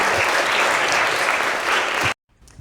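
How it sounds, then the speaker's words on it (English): Full, dense applause from an audience after a team presentation, loud and close for about two seconds before stopping abruptly, followed by a faint rustle. "Give them a round of applause."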